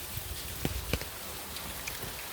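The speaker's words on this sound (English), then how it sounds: "It's raining. This is the Christmas Eve we are having." Steady rain falling on Christmas Eve, a soft continuous hiss with a few sharper drips and taps standing out, heard close and alone with no voices.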